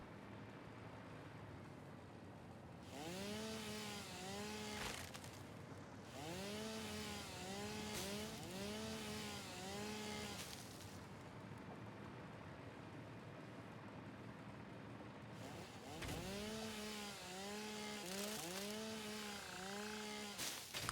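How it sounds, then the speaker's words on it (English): A chainsaw in the video game Satisfactory revs up repeatedly in loud, rising-and-falling bursts, with short gaps of engine idle between the cutting runs. "I think by using the chainsaw, this stuff doesn't come back."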